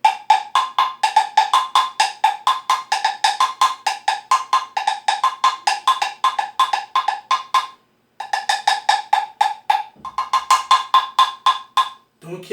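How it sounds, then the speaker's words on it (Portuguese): An agogô bell is struck with a drumstick in a fast, steady run of bright metallic clanks, close and loud, with a short pause partway through and a brief voice at the very end. "Outro exemplo de idiofone que eu tenho aqui também,"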